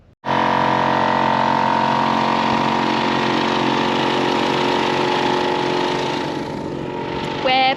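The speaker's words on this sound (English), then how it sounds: "We're pumping the tyres back up" An engine-driven pump runs steadily and loudly while inflating car tyres beside an outback road, a constant droning hum from start to finish with a brief rattling burst near the end.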